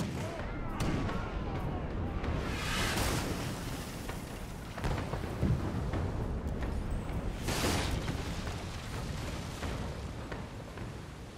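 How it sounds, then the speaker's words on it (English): Heavy cannon fire in a naval battle video game, booming blasts repeating at intervals over a dense, rumbling wash of battle noise, with a voice talking underneath. "Fire the cannons again!"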